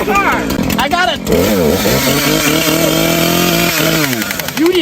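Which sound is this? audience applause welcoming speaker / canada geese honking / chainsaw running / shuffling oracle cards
chainsaw running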